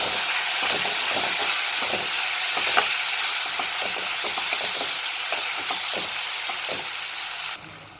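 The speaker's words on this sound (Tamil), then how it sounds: "நம்மளோட தக்காளி நல்லா ஃப்ரை ஆகிடுச்சு" Tomatoes fry in a pan with chilli powder, giving a steady, close sizzle and hiss broken by frequent small crackles and pops, heard alone with no talk.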